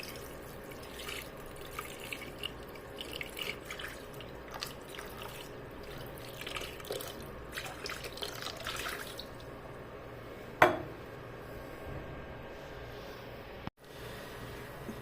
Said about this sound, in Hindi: इसमें डालना जी पानी।